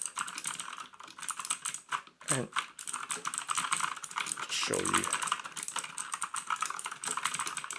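Rapid, continuous clacking of an EasySMX mechanical gaming keyboard as keys are mashed, dense and close-up, with a brief spoken phrase early on and a short thumpy bump partway through.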